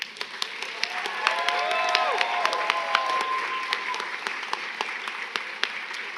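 Sustained applause from a commencement crowd rising to a standing ovation, dense clapping with sharp individual claps on top, steady and fairly loud throughout, with faint voices mixed in.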